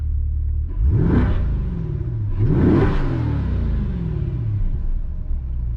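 A 2021 Chevrolet Corvette C8 exhaust in sport mode revs hard twice in quick succession, each burst rising and falling, with a steady low engine idle rumbling underneath.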